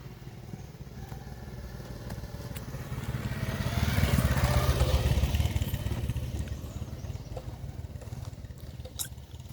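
A motorcycle engine draws closer and swells to a peak near the middle, then fades as it rides off, heard outdoors on a hill trail at Phulchowki, Godawari, over a steady background hum.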